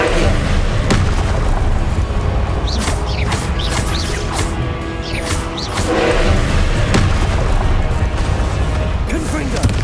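Confringo fire-blast spells detonating in Hogwarts Legacy: repeated booming blasts and crashes over a constant loud background of effects, with a voice heard between the impacts.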